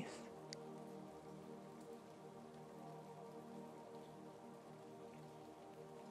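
Steady rain falls and patters continuously on surfaces close by, a dense even hiss with scattered drips and a single brighter drop near the start.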